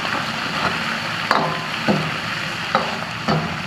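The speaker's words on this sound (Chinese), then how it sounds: "然后先炒一下，把油炒出来" Pork belly stir-fried in a wok to render its fat, with a continuous sizzle broken by several sharp scrapes and knocks of the spatula against the metal.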